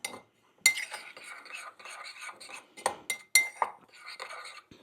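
A utensil clinks and scrapes against a bowl while pastrami spice mix is stirred into mustard, producing irregular close taps and scraping strokes with brief quiet gaps.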